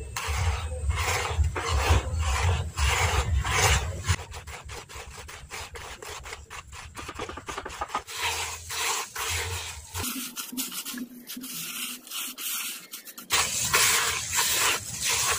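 A mixture of rice husk charcoal powder for briquettes is stirred, producing continuous close scraping and rubbing strokes in a fairly steady rhythm, with no voices.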